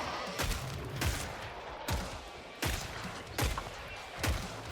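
Rapid, punchy gunfire from the shooter video game Killing Floor 3, a sharpshooter firing four or five sharp shots in steady succession, loud and close, with no talk over it.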